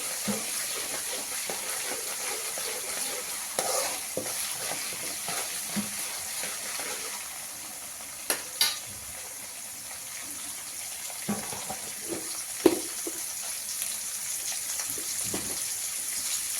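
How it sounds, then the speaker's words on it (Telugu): Spice paste fries and is stirred in a pan for mirchi ka salan, with a steady low sizzle that lasts throughout, a few soft scrapes of a utensil and no talking. "వేసి బాగా ఫ్రై చేసుకోవాలండి."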